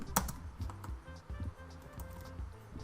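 Quick, uneven clicking of a computer keyboard while Java code is typed, soft and close with a low background hum.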